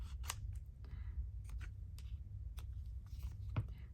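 Paper is trimmed for an antique document journal in a series of short, close snips and crisp rustles, quiet and scattered, with small handling noises between the cuts.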